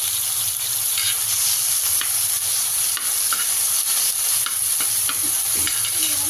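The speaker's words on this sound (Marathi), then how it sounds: "आता आपण तेल गरम करायला ठेवलेलं आहे त्याच्यामध्ये टोमॅटो ओतून घेऊया" Tomatoes hit hot oil in a pan and fry with a steady, loud sizzle, broken by scraping stirs and small pops throughout, with no talking.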